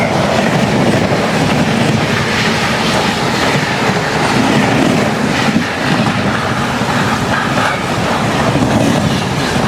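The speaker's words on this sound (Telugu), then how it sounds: "సో మన ఎదురుగా చూసుకుంటే ఎర్నాకుళం నుంచి టాటానగర్ వెళ్ళే ట్రైన్ అయితే వస్తుంది" The Ernakulam to Tatanagar express train passes alongside a moving train near Arakkonam Junction. A loud, continuous rumble and rattle of wheels and carriages mixes with rushing wind noise, sustained throughout.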